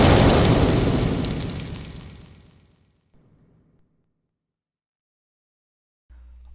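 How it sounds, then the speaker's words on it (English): A swarm bot explodes close by in a loud, broad blast that rolls off into a long fading rumble over about three seconds, followed by near silence and a faint low thud at the end. "a swarm bot crawls in front of his face and explodes"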